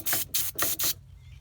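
Three short, loud aerosol bursts of lubricant sprayed onto a drill bit before drilling into the metal of a VW T25 van, each hissing spray about a quarter second long, followed by quiet.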